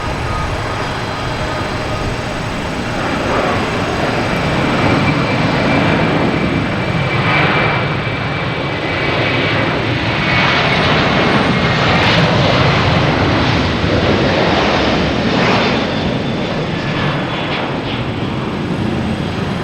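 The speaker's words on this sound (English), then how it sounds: "Next to arrive will be the Lufthansa A380." A Lufthansa Airbus A380 arriving at Boston Logan, its engines a loud, steady broadband roar with no talking.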